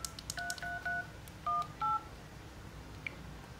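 Keypad button tones on an LG V50 phone: a quick run of short dual-pitch beeps, three in a row, then a pause and two more, fairly close and clear over a faint hiss, with no talking.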